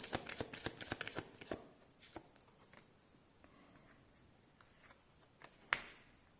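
Oracle cards shuffled by hand: quick, close rapid flicks and riffles at first, then scattered soft taps and a single sharp slap near the end, all fairly quiet.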